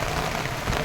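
Dense, steady rain hiss with a low rumble of thunder underneath, loud and continuous for a brief moment.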